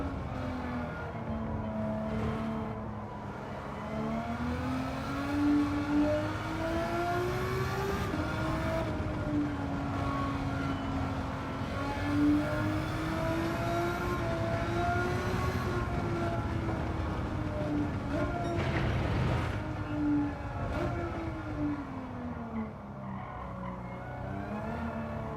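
A race car engine in the Gran Turismo 7 video game drones continuously, its pitch rising and falling gently as it holds a sustained whine with no talk over it.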